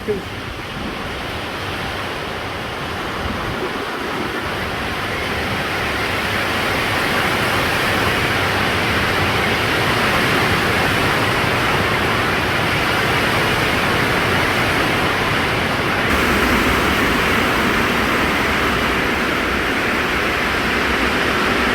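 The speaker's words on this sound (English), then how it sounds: "It's really tipping it down out there, so might have to make a run for it." Heavy rain pours down outside, a dense steady hiss that swells slightly and stays loud and constant throughout.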